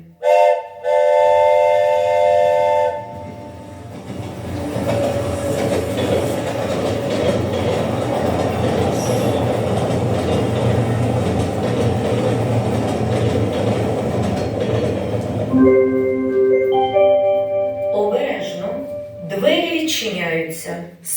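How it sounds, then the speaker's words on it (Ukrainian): A train rumbles steadily along the rails after a short whistle blast at the start, a loud continuous clatter that gives way to bright chiming tones near the end. "Потяг їде до станції Задзеркалля."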